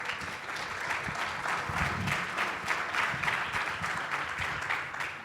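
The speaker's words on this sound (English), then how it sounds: "If you would please give a round of applause to our wonderful panelists" Sustained applause from a panel-event audience for the panelists, a continuous wash of many hands clapping at an even, moderate level with no talk over it.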